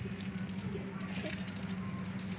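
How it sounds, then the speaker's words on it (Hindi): Water poured onto a rose plant in a garden, a steady close trickle and splash of running water continuing throughout. "और अभी इसको थोड़ा थोड़ा पानी दे दें ताकि टूटे नहीं।"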